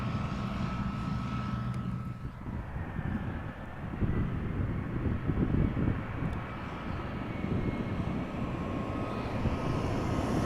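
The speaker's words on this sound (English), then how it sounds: "This is an Embraer 175 from KLM arriving from Humberside, which looks like an uneventful landing." A KLM Embraer 175 jet comes in to land at Amsterdam Schiphol in crosswind conditions, its engines a loud, steady roar, with gusty rumbling that swells in the middle and holds throughout.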